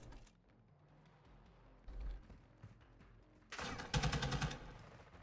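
Rapid automatic gunfire in a Call of Duty match during a college tournament broadcast, a thump near two seconds, then a loud, dense burst of shots in the final second and a half.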